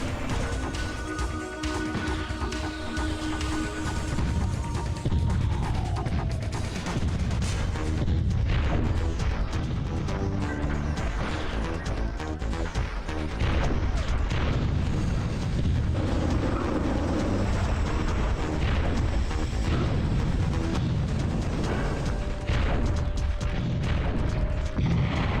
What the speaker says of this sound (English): I was wondering what the hell was exploding. It was a fucking grenader just throwing grenades.